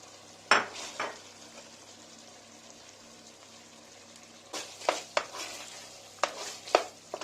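A spoon stirs curry chicken with melting kashar cheese in a pot, making a few soft scraping and clinking strokes separated by quiet pauses, close and faint.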